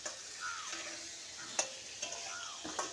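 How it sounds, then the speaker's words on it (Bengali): Potatoes sizzle gently as they fry in oil in a wok, with a steady low crackle broken by a few sharp clicks and scrapes of a utensil stirring. "এই আলুটা আমি দিয়ে দিচ্ছি কড়াইতে। আলুটা এই যে আমি একটু আলুটা ভাজবো।"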